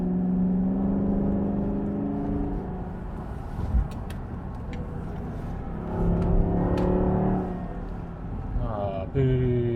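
A Jaguar XK8 sports car engine pulls hard in manual gears on a one-way hill section, a steady close, loud drone with rising revs and gear changes, plus a brief surge near the end.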